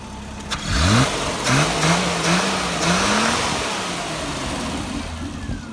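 A 1971 Triumph GT6 engine cranks and catches, then revs up and down a few times before settling into a loud, rumbling, slightly uneven idle close by.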